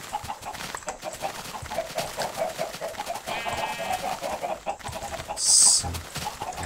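Chickens cluck in a Minecraft game world, soft repeated calls running steadily through the scene with a brighter chirp-like burst near the end.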